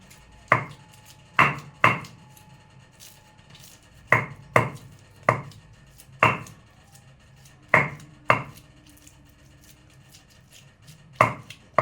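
500 grams of mutton chopped into a paste on a board, sharp heavy knife strikes landing in irregular clusters of one to three, loud and close with quiet gaps between, no talking.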